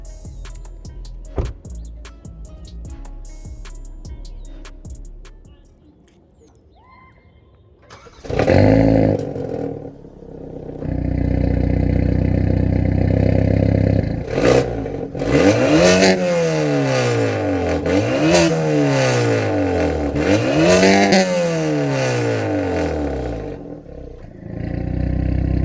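A Hyundai i30 N with a DCT gearbox and a Stage 2 tune making 397 bhp cranks and catches, then revs repeatedly with rising and falling roars, loud and close, after some quiet clicking.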